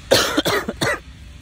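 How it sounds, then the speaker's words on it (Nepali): A person outdoors gives a quick burst of three dry coughs in close succession, loud and near, followed by quiet ambient background. "खोकी लागेर नि अहिले"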